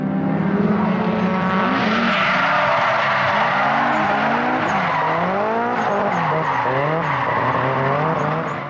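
Nissan Cefiro A31 drifting through corners, tires squealing in long wavering screeches over a loud, continuous engine roar that rises and falls.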